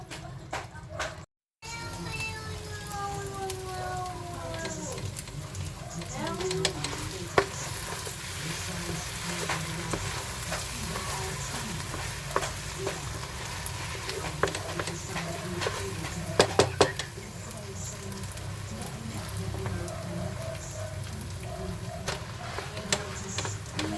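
Biko sticky rice is stirred in thick, bubbling latik in a pan, with a continuous close sizzle and frying crackle broken by the scrape and clack of the spoon, and a person talks now and then over the cooking.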